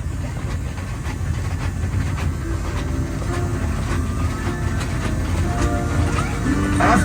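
A tourist train rumbles along on the Pineapple Express at Dole Plantation in Wahiawa, Hawaii, giving a steady low drone and faint clatter throughout with no voices.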